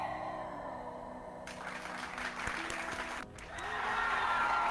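A crowd claps modestly at first, then the applause swells into a louder, dense roar of clapping.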